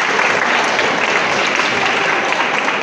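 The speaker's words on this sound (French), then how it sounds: "On applaudit notre Dieu." Congregation applauds in a church during a confirmation service, a dense, steady wash of clapping that carries on throughout without letup.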